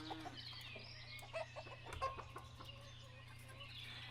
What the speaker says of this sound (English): Aren't those pretty little chickens?